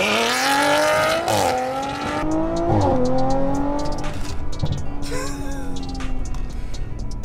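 Stage 2 tuned Audi RS3 of about 530 bhp launching flat out from a standstill in a 0-60 run, a loud rising engine roar with gear-change dips and some tyre noise, heard close throughout.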